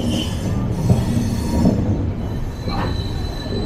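Steady rumble and rattle of the Ernakulam Duronto Express running on the track, heard from inside a sleeper-class coach, with faint wheel squeal rising briefly over the continuous rolling noise.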